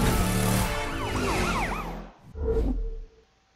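A police siren wailing in the video game The Crew 2 from a Ford Mustang Shelby GT500 police car, rising and falling over a loud engine roar before cutting off abruptly, followed by a brief bang.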